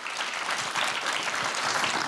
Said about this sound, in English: big round of applause for all these three